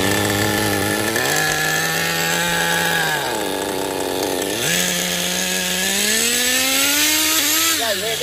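A Tornado S30 engine with a two-speed transmission runs loud and steady after a gear timing adjustment, its buzzing pitch dipping and rising several times as the throttle is worked.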